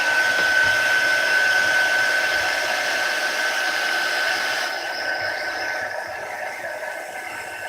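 Hair dryer blowing steadily close by while drying ink on an art journal page with modeling paste, a constant whooshing whine that thins slightly toward the end, with no talk over it.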